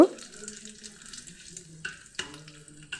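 Whole spices for basanti pulao fry in a pan, a faint crackling sizzle with intermittent scrapes and clinks of stirring, quiet and close, with a couple of sharper knocks against the pan.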